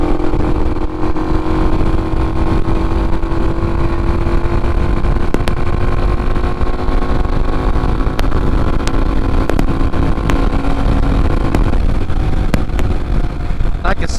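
A Hawk DLX 250 EFI dual sport motorcycle rides along a Las Vegas street, its engine a steady continuous drone close to the rider with wind noise, while someone talks over it.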